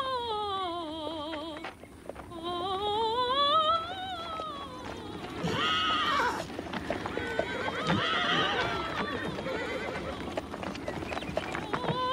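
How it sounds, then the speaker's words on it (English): A horse neighs in long, rising whinnies while hooves clip-clop steadily on hard ground, loud and close, in an action Western film scene with no talk over it. "Cinch my horse carefully, Corporal, so he won't jump"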